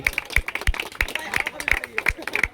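An audience claps at a prize-giving ceremony in Ballygunge as a man-of-the-match award is handed over: scattered, uneven hand claps close by, mixed with people talking.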